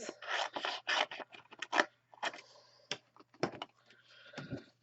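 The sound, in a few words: scissors roughly cutting off stamped flower stems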